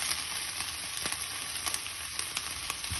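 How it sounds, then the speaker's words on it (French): Onions for savoury harcha brown in a pan with a steady, moderate sizzle and a few sharp crackles and stirring taps scattered through, close by and without talk. "je vais laisser un petit peu rissoler"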